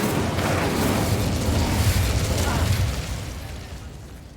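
A fiery blast from the Incendio spell in Hogwarts Legacy, a loud roaring whoosh of flame with crackling bursts that fades slightly toward the end.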